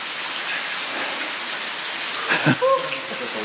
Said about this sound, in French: On est content d'avoir la pluie.